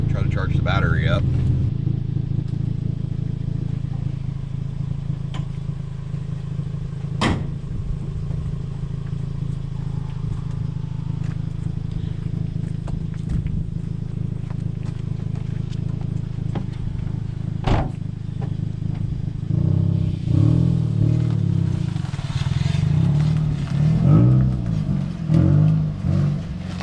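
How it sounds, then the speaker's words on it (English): A Toyota Yaris engine idles steadily after starting, a continuous low rumble close by, with a couple of sharp clatters and a brief rise near the end. "Fired right up. And yeah, so I'm gonna let it run for a minute, try to charge the battery up."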